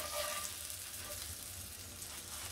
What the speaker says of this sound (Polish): gdy smażymy ostatnią partię gołąbków